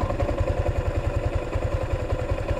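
A 2024 Yamaha Sniper 155R motorcycle idling up close, a steady rapid low-pitched pulsing thump with light mechanical clatter over it.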